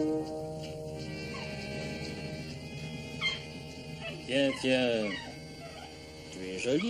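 A dog gives a few high whimpers and yips, close by, over a steady background of music or other sound.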